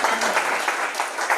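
An audience at a national business pitch competition in Burundi claps together in a short, dense burst of steady applause that fills the room without any voices over it.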